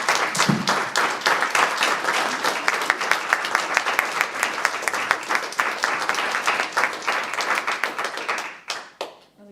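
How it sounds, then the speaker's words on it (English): An audience in a civic centre hall gives sustained applause for candidates at an election hustings, loud and dense claps that thin out and fade near the end. "So can we give our candidates a round of applause?"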